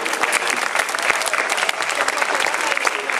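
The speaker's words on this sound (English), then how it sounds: "big applause for Sylvester McCoy" An audience at a Stockholm sci-fi convention claps loudly for actor Sylvester McCoy, with sharp individual claps standing out in a busy, lively crowd.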